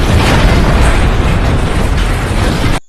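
A loud, sustained roaring blast of broadband noise from a large explosion as a truck crashes into a building, rumbling steadily for nearly three seconds before cutting off abruptly.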